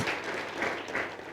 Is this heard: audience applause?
yes